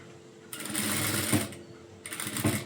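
An electric sewing machine stitches a blouse in two quick bursts, a fast buzzing rattle of the needle that stops briefly between runs, close and clear against a quiet room.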